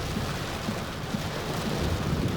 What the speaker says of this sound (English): for every 3 seconds before the thunder, it's a mile away